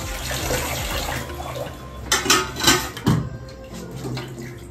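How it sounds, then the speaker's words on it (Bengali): Water runs from a tap while dishes are washed at a home sink, with a few louder clatters of pots and cutlery standing out against the steady flow of water. "চলো এখন বাসন ধুতে দিই"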